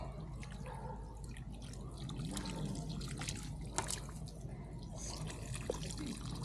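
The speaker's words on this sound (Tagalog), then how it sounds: "Ayan, malamig na yung tubig. Pwede na nating idilik sa ating ampalaya" Water poured by hand onto bitter gourd plants in a home garden, a steady close trickle and dribble with scattered drips splashing on leaves and soil, low background hum underneath.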